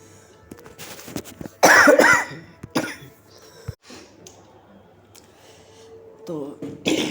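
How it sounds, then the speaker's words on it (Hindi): Someone coughs in a short burst of harsh, loud coughs near the microphone, set within a devotional Hindi storytelling talk; quieter speech and throat sounds surround it. "बहुत खांसी हो रही है।"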